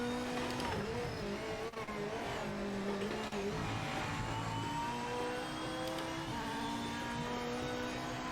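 Chevrolet GT3 race car in the Project Motor Racing video game, its engine droning steadily and loud throughout with shifting pitch as it revs and eases, plus brief tire scrubbing as the rear slides.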